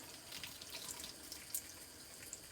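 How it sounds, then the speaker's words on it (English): Tap water trickling lightly over a peeled egg in a sink, a faint, steady splash with small drips, close and alone. "you're gonna have some water lightly running on it."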